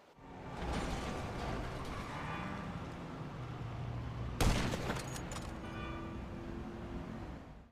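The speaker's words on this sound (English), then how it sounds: "I make a sniper shot from really far away." A single loud, sharp sniper rifle shot rings out partway through a long-range kill in the video game Grand Theft Auto 5, standing out over a steady bed of engine and traffic-like game ambience.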